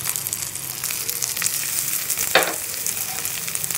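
Garlic cloves and ginger pieces frying in a hot pan for a butter masala curry, giving a steady, close hiss of oil with a brief louder sizzle burst midway, no talking.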